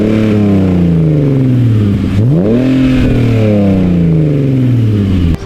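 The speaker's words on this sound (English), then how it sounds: "I previously installed this M3 back box that sounds like this." A BMW E46 330Ci fitted with an M3 rear back box exhaust revs up, dips and climbs again in a steady, loud engine sweep heard close by without any voices.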